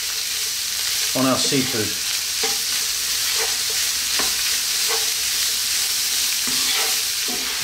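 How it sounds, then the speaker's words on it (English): Prawns frying in a pan for a prawn curry, stirred constantly: a loud steady sizzle with repeated metallic scrapes and clinks of the spoon against the pan, and a brief voice speaking partway through. "let's just go for like 2-3 minutes, stirring all the time, get a little bit of flavor"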